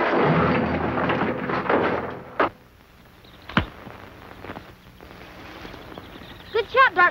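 In a Wild West television scene, a single sharp gunshot bang cuts through, with a thumping burst just before it and voices and background noise around it.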